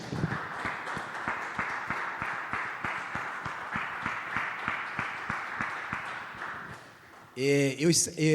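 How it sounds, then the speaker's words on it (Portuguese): An audience at a church gathering for health professionals applauds steadily, dense rhythmic clapping that fills the space for several seconds before a voice cuts in at the end. "Dá uma salva de palmas para Ele, pode aplaudir, agora pode aplaudir."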